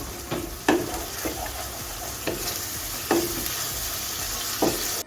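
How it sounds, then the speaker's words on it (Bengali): Ginger-garlic paste sautéing in a pan, a constant sizzle punctuated by about six sharp spatula knocks and scrapes at uneven intervals, close by. "এখন আমি পেস্টটা দিয়ে দিচ্ছি দিয়ে এখন ভালো করে আবার দু মিনিট কষিয়ে নেব"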